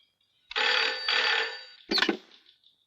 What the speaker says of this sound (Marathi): लोखंडे, हं? तुमचा फोन.